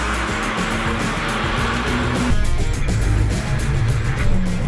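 An Abarth 695 Biposto (2014) drives on the Varano circuit in Italy, its engine a loud steady roar close by that climbs in intensity partway through, with broad wind and road noise throughout.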